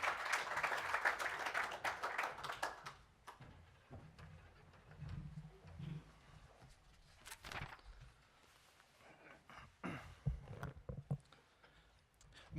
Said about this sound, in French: Avec des applaudissements, s'il vous plaît.